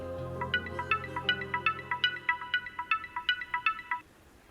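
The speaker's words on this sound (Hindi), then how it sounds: "वो गजाला का फोन है।" A phone's melodic ringtone in a Pakistani TV drama scene, a rapid tinkling sequence of bright repeated notes lasting about four seconds, clear and prominent over a soft low background.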